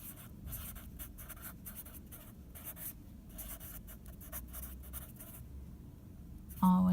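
Pencil or pen scratching steadily across paper while a geometry proof is written out by hand, a continuous close rustle of strokes with brief pauses, ending in a louder knock.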